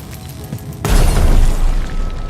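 A thrown grenade bursts in the game Dishonored 2, a sudden loud, deep boom that follows a brief quiet lead-in and then rolls on as a sustained rumble, with no talking.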